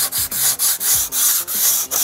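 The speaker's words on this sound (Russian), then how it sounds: "Берем шлифовальный блок мелкой фракции, в нашем случае 240-я фракция" Quick back-and-forth rasping of a fine 240-grit sanding block rubbed over wooden cladding boards, about six even strokes in a steady rhythm.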